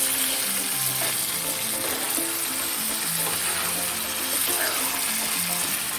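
Pad Thai noodles and egg frying in a pan, a steady close sizzle and crackle running throughout, with faint voices in the background.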